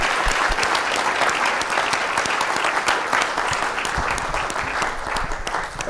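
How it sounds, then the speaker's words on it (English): Sustained audience applause at the close of a panel session on Black graduate careers, dense and steady clapping filling the room for the full stretch, no talk over it. "Round of applause for them, please."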